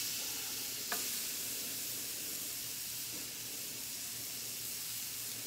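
Two ribeye steaks sizzle steadily on a hibachi grill, a continuous broadband frying hiss with a faint low hum beneath and one brief sharp tick near the start; no talking.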